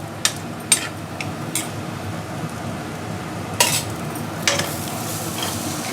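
Frying and stirring ingredients in a pan for a fish curry: a steady soft sizzle under scattered sharp clinks and scrapes of a spoon against the pan, with no one talking.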